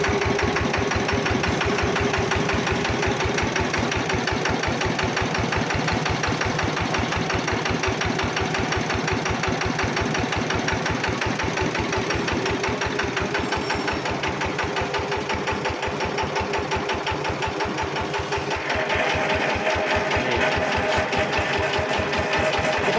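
A homemade Thai farm tractor engine idles without being revved, a steady fast mechanical chugging that stays loud and close throughout, with no talk over it.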